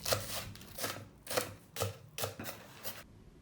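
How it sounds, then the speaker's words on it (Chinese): Twenty grams of scallions are chopped with a knife on a small cutting board, giving a close, steady run of about seven sharp, evenly spaced strokes. "把20克的葱切碎"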